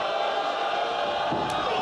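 Roar of a sold-out crowd at a live wrestling event, a dense, continuous wash of cheering with a few shouts rising out of it, loud and steady across the whole moment.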